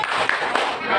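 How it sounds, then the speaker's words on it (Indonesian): A classroom of children claps in a brief rhythmic burst, the patter mixed with a teacher's voice speaking over it. "Tepuk tangan."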